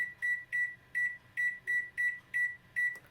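An LG MC2841SPS microwave oven beeps in a steady run of about nine identical short electronic tones, evenly spaced and close by, as its auto cook category is selected.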